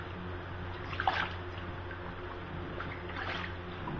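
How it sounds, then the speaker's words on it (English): Water drains slowly from a bathtub through a newly used drain, giving a faint, quiet gurgle and trickle with a couple of brief louder slurps, all at low level and without speech. "The tub has emptied, and this is the first time that water has ever been in this drain."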